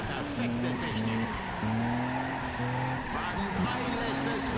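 Car engines in the racing game Juiced 2 hum in a rhythmic pattern while the cars drift, with faint tire squeal and a voice talking over the engine noise.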